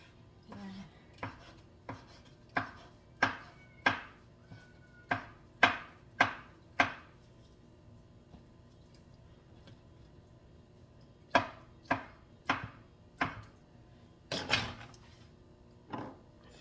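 A knife cuts through a boiled egg lengthwise on a board, giving a series of crisp, close taps and chops in quick runs, separated by a quiet pause.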